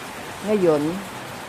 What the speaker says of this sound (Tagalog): Ngayon, yung lakas ang ulan.